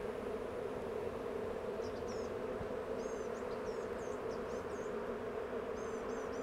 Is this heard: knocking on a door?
no